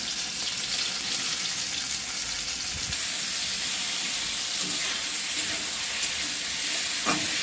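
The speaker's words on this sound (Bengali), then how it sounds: "নুন হলুদ দিয়ে দিয়েছি দিয়ে ভাজছি ঝিঙেটা" Ridge gourd frying in oil with salt and turmeric, a soft steady sizzle throughout with a few faint stirring clicks, no talk.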